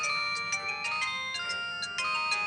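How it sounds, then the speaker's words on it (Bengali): A mobile phone ringtone plays a bright, repeating electronic melody of short tonal notes, loud and alone, with no voices. "বল্টুর ফোন আবার কি হলো কে জানে।"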